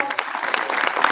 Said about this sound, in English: Students, I want a good round of applause for